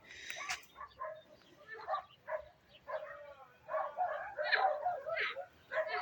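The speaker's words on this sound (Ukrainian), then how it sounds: "Це собаки так гавкають." Dogs bark and yip in scattered bursts at a moderate distance, irregular and overlapping, with occasional whimpering between the barks.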